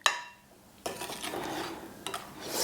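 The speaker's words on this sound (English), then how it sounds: "So I'm going to just give that a little stir round." Cinnamon, nutmeg and kosher salt stirred in a pot, with a few light scraping clinks of a utensil against the metal that come in short bursts, close and fairly quiet, no voices.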